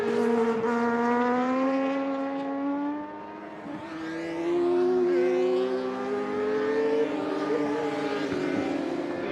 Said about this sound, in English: watch this thing come off the racetrack. High gear, wide open.